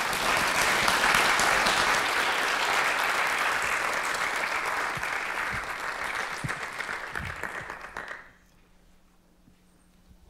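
Audience applause greets a lecturer at a university lecture event, a dense, steady clatter of many hands that holds strong for about eight seconds, then fades out abruptly into near silence.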